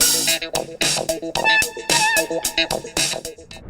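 Music plays through the speakers of a gaming laptop with a Core i7-13650HX and RTX 4060: a short, bright run of rhythmic notes and chords with punchy beats and lean low end, moderately loud and without voices.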